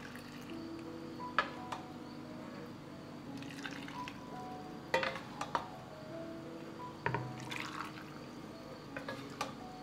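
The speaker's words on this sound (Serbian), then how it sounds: "I sada ćemo napuniti tegle." Freshly boiled hot liquid is poured into glass jars, faint splashing with scattered drips and light clinks spread unevenly across the stretch, heard close and quiet with no talk.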